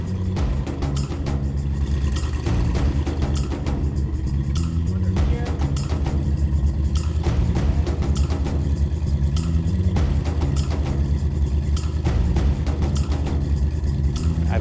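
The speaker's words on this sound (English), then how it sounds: "I love the fact that that truck is running, and it sounds good." An old truck engine runs with a low, steady rumble, nearby and fairly loud, with a rhythmic clatter and occasional sharp knocks over it, and no voices.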